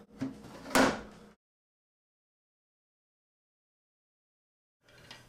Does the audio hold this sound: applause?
no